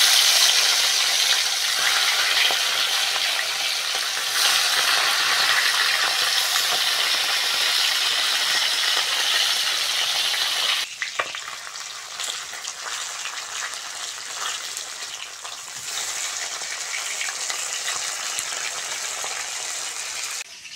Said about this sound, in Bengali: তেল ভালোভাবে গরম হয়ে গেছে,